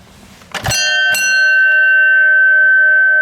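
The bell on a 1904 Mitchell light car is struck twice, close and loud. It gives a bright metallic clang that rings on clearly and sustains for several seconds.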